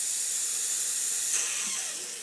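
An airbrush blows leftover black paint straight through its nozzle, giving a steady, close, even hiss that holds for a couple of seconds and then tapers slightly, with no talking.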